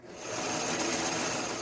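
A sewing machine set to a straight stitch runs slowly and steadily, giving a continuous soft mechanical whir that stays even from start to finish, with no voices over it.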